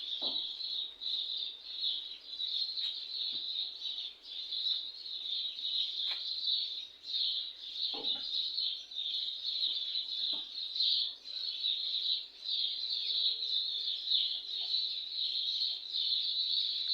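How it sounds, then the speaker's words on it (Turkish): Continuous chorus of chirping birds, bright and busy, with a few soft thumps and rustles scattered underneath; no voices. "Umarım kuş sesleri duyuluyordur."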